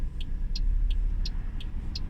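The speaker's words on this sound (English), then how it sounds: "There's another car coming." A car approaches on a steep downhill residential street, its low engine and tyre rumble swelling and fading over two seconds as it passes nearby, with faint high chirps repeating in the background.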